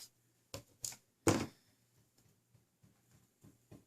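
Scissors snip through strand band cord while a flower medallion necklace is made, a few sharp separate cuts with one heavier clip, then quieter faint handling.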